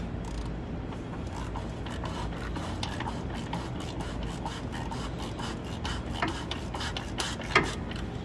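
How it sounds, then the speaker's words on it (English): Oil filter caps tightened with a ratchet and socket during a wet service, rapid dry ratchet clicks and rubbing mechanical rasps running steadily, close up with a sharper knock near the end, no voices. "grab our ratchet and socket, and get them tightened all the rest of the way up"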